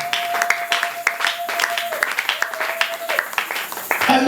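Church congregation clapping and cheering, a busy, uneven patter of hands mixed with raised voices and shouts, with a thin sustained tone running underneath.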